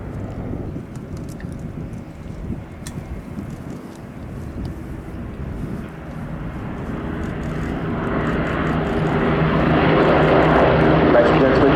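An Avro Lancaster bomber and a Spitfire make a formation flypast, their propeller engines' throbbing drone swelling steadily from moderate to loud as they near, with commentary spoken over it.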